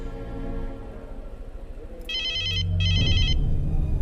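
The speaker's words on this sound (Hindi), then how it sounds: "माँ मालिक का फोन है" A mobile phone rings with an incoming call in a South Indian movie scene, giving two bright electronic ring bursts over a steady low background hum.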